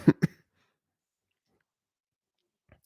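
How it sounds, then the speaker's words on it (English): Two quick, close coughs or throat clears in a row, followed by long silence and a faint small sound at the very end. "I've been coughing a lot."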